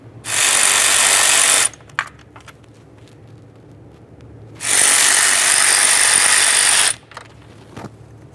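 Two long, loud bursts from a power ratchet or drill run out a pair of 10mm bolts on the EGR tube of a 1998-2011 Ford Ranger 2.3L, separated by quiet pauses with small clicks of handling.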